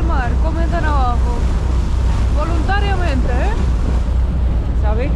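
A vessel moves through cold Arctic sea water near the shore, with a loud, steady wash of water and wind noise throughout, while a voice speaks briefly over it.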